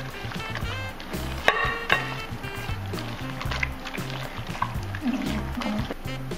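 Bread dough batter of butter, sugar and egg being beaten, a steady wet slapping and sloshing churn with faint clicks, close and continuous.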